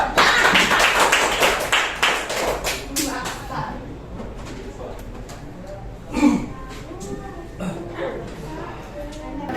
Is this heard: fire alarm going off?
no